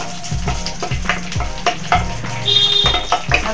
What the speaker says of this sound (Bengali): ঘিটা গলতে দিয়েছি, আর এর মধ্যে আমি দেব গোটা তেজপাতা